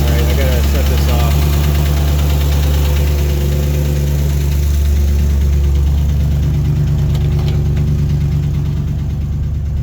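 A Chevy C10 pickup engine idles loud and close with a steady low rumble and faint knocking vibration; the engine has an oil-soaked exhaust manifold and an overheating problem.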